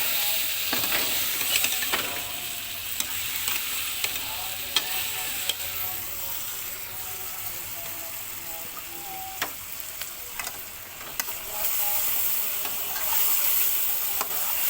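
Salt, dried coriander, turmeric and red chilli powder frying in oil for chicken karahi, giving a continuous close sizzle with periodic clinks and scrapes of a stirring spoon against the pan, steady and fairly loud with no talking.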